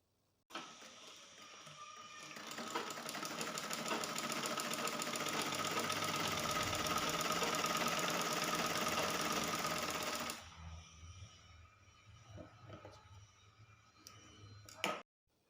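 A sewing machine stitches a straight seam in shirt fabric, running as a loud, steady rapid whir for about ten seconds before stopping, followed by quieter handling noises and a sharp click at the end.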